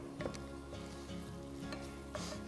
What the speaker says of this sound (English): Hear it getting nice and hot and sizzling.